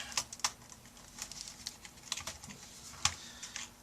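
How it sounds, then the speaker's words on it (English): An HP Pavilion dv6500 laptop keyboard is pried up and pulled off, giving a series of sharp plastic clicks and snaps at an irregular rhythm, close and fairly quiet. "And now we're going to pull the keyboard."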